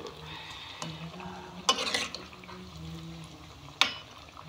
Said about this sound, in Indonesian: Digoreng.